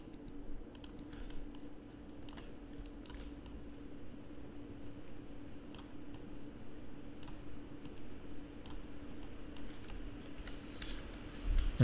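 Computer keyboard keys clicking in a steady scatter of soft taps over a low fan hum, as a shortcut is pressed while working in a game engine editor.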